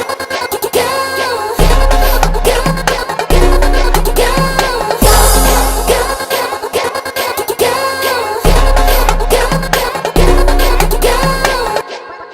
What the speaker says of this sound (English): Now it's time for the drums, and I already made a section for the drums